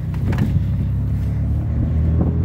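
Riding in the open back of a moving pickup truck brings a loud, steady road rumble and buffeting wind that hold from start to finish, with no talking.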